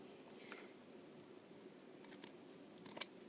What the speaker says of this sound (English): I'm going to cut all these in half.